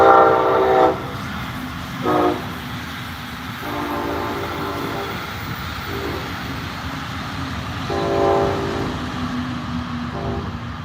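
Brightline passenger train passing at a Melbourne, Florida crossing, its horn blaring in several separate blasts over the continuous rumble of the moving cars.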